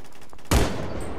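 Gunfire in the first-person shooter Phantom Forces, a single sharp, loud shot after a brief lead-in that rings out and decays over the remaining fraction of a second.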